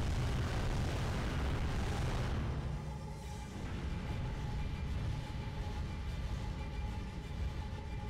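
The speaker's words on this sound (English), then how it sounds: "That's a lot of cannons." Heavy cannon barrage in the video game Drakengard, a dense continuous rumble of overlapping booms filling the whole stretch, loud and low with no clear gaps between blasts.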